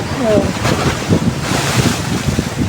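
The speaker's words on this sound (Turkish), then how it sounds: "çok güzel valla bak arkadaşlar çok güzel dalgalar var" Sea waves slap against a ship off Mudanya in Bursa, a steady roaring wash of water and heavy wind buffeting the microphone, with no clear talk over it.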